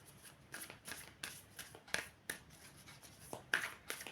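Tarot cards are shuffled close by in a quiet room, giving a run of soft, rhythmic riffling and flicking bursts with no voices.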